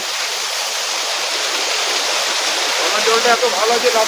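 A waterfall in Darjeeling roars as a loud, steady broadband rush close by, with faint voices creeping in toward the end.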